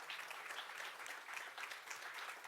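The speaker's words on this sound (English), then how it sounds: "Let's have a round of applause for our speakers and for Kaylee, our moderator." Sustained applause from an audience at a civic education debate, dense steady clapping filling the whole stretch without a break, no voices on top.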